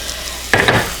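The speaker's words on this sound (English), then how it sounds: "you got to stir it constantly, because 1, I'm sauteing the onions, and 2, I'm making the roux" Onions sauté with a butter-and-flour roux in a pan, a brief soft sizzle followed by a louder burst of scraping and stirring against the pan.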